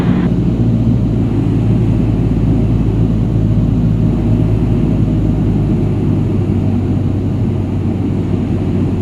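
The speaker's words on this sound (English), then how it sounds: "So we shall perform a soft roll takeoff, protect the nose at all costs" A light aircraft engine roars steadily and loudly through a soft-field takeoff roll with flaps set, a constant dense rumble with propeller drone filling the whole cabin.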